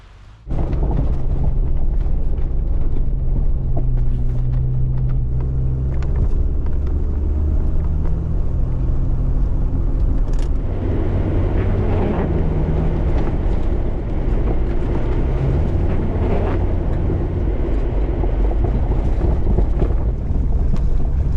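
Old Jeep driving on a road, a loud, steady low engine rumble with road and wind noise that continues without a break throughout.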